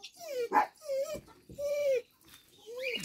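A farm dog whimpers in several drawn-out, whining cries separated by short pauses, close and fairly loud, with a brief yip partway through.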